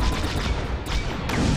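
Gunfire in a flight video game, a dense continuous burst of shots with sharp onsets around the middle and late part, loud and close, with no voices over it.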